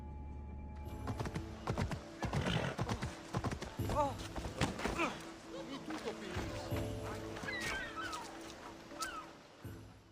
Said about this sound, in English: It's a very nice horse. A sturdy horse.